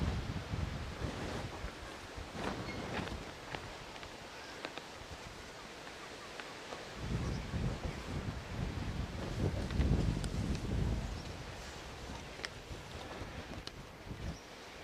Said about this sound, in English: Although the wind is really bad today